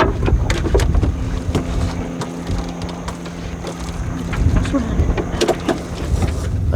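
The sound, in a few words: sailboat tacking in strong wind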